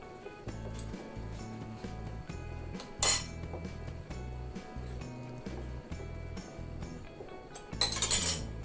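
A spoon clinks twice against a pot while Thai rice porridge (khao tom song khrueang) is stirred: one bright knock near the middle and another near the end, over a steady background of music.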